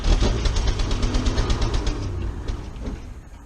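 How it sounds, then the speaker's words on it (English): An old Ford crew cab truck engine runs close by with an exhaust leak, a rough, pulsing exhaust note, steady rhythmic puffs that ease off slightly toward the end. "Nice exhaust leak."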